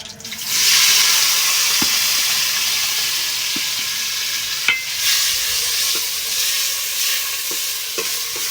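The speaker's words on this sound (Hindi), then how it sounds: "घी हमारा गर्म हो गया है, घी में हम लोग डालेंगे धुले हुए प्याज" Washed onions hit hot ghee in a pan, bursting into a loud, even sizzle that holds throughout, dotted with sharp spatula clicks and scrapes.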